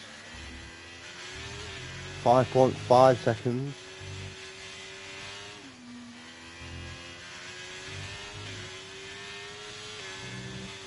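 Race cars in a sim racing game at the Hungary round, engines droning steadily with brief sharp rising revving bursts near the start, all under commentary.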